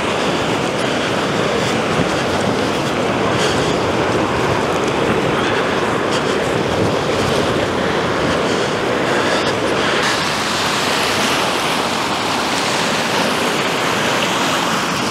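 The Laxa River in Iceland rushing past nearby as a loud, steady broadband roar of flowing water that fills the whole stretch without pause.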